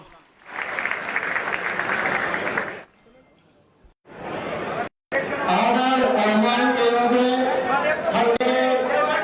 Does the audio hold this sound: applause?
yes